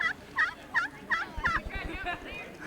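A hand-worked turkey box call imitating a hen turkey's yelps gives a run of five sharp, evenly spaced raspy notes, then softer trailing clucks, close and alone with no talking.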